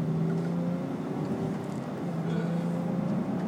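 A 2013 BMW X5 30d diesel accelerates in sport mode, heard from inside as a steady low engine drone with rising tonal hum, fairly loud and continuous.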